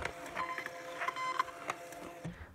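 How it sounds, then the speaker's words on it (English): A thermal printer feeds out shipping labels with a quiet, steady mechanical whir and faint rhythmic clicks, close by and alone, stopping abruptly near the end. "your labels will pop out of your thermal printer like so."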